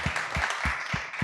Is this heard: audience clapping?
yes